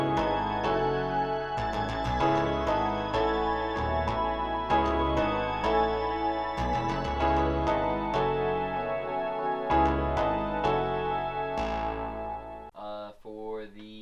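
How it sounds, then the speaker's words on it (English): Hip-hop beat in a West Coast style, with a synth bass line, sustained pad, bell tones and piano chords playing steadily and loudly together. Drums pulse throughout before the mix drops out near the end. "with everything else we got going on so far with the bass line, the pad, the bells, and the piano"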